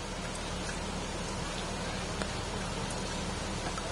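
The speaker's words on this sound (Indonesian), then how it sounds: "Masih. Masih hujan terus lagi kawan." Rain falls steadily at GBK stadium in Jakarta before a Timnas Indonesia football match. It makes a constant, even hiss of drops on the surfaces around, with no voices.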